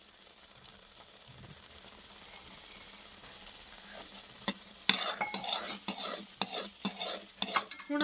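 Raisins and cherries are stirred into a pan of suji halwa, starting with a faint low sizzle before the spoon begins scraping and clattering against the pan in quick, uneven strokes.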